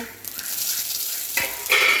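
Whole spices and a bay leaf sizzle in hot sesame oil being tempered for a country-chicken curry, a steady hiss that swells louder toward the end, with a brief clink of a utensil.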